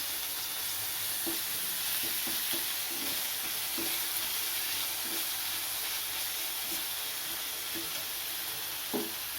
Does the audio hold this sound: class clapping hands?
no